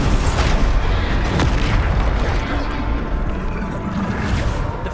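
Bombarder spell blast in Hogwarts Legacy, a dense booming explosion that lands near the start and rumbles on loudly through the whole stretch with crashing debris, no voices.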